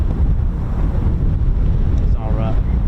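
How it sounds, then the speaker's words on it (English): Strong gusty wind buffets the microphone at RAF Waddington airfield during an air show, a loud continuous low rumble throughout, with a brief faint voice near the end. "A very windy one."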